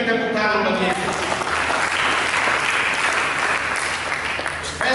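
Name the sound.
church congregation applause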